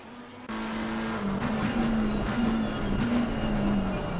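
A McLaren 720S Evo GT3 race car runs in Assetto Corsa Competizione during an endurance race at Barcelona, with a steady engine drone whose pitch wavers slightly as it holds speed. No one speaks.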